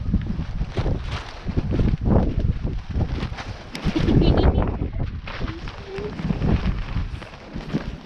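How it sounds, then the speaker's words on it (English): Wind blows on the beach at Skegness, buffeting the microphone with a steady, rough rumble that swells and fades throughout. "It's a little bit windy today."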